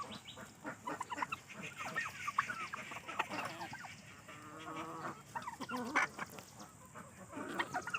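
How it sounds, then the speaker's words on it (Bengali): Sonali chickens on a farm kept for eggs, giving a faint, continuous chorus of overlapping clucks and squawks from several birds at a moderate distance. "মুরগিরা আমি পালন করছি"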